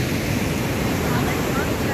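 Water rushes down a waterfall in a Kerala forest, producing a steady, dense roar that holds at an even level without any breaks.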